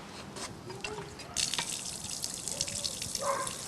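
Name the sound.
water running from a standpipe tap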